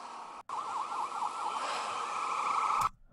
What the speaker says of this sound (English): You don't need your siren on. You can turn it off before you get to us and blow our freaking eardrums out.